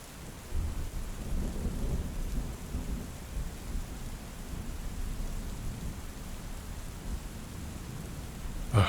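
Heavy storm rain pours steadily and loudly on an exposed channel between high ground, with low rumbling wind and thunder-like roar underneath, continuous for the whole stretch with a brief louder gust at the end.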